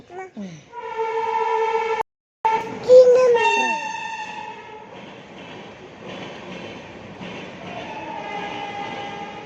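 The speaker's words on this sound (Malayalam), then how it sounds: "ട്രെയിൻ അല്ലേ" A train rumbles past close by, with loud horn-like tonal blasts early on and a voice speaking over the clatter of the cars.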